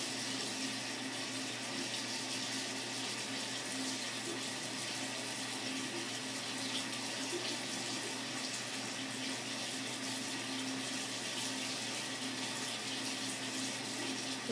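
Tap water running continuously into a sink, a steady loud rushing stream that holds unchanged for the whole stretch with no voices.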